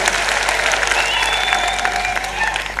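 Applause from an audience at a political rally, dense sustained clapping from a large crowd that stays loud and even throughout.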